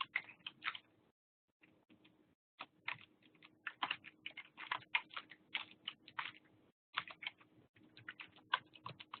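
Someone types steadily on a computer keyboard during a class meeting, writing out notes on routing between autonomous systems. Rapid clicking keystrokes come in close, uneven runs, broken by a few brief pauses.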